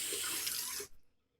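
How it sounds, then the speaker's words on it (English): Running tap water pours loudly into a sink as a safety razor is rinsed under it, a steady broadband rush that cuts off abruptly near the end, leaving near silence. "Now, you should be rinsing the razor quite frequently."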